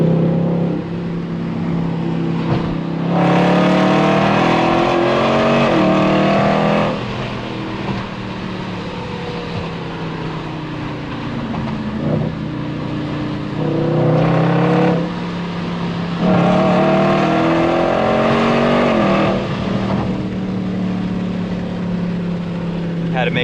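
Loud, continuous exhaust roar from a Dodge Charger driving through canyon roads, with repeated rises and falls as it revs up through the gears and then eases off, heard close from inside the car.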